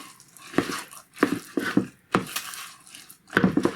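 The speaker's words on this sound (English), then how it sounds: "And now we just mix those until they're mixed in" Walnuts being mixed into cake batter in a bowl, a series of soft clinking scrapes of a utensil against the bowl in irregular bursts, fairly close.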